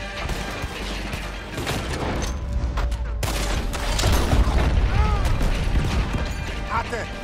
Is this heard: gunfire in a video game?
yes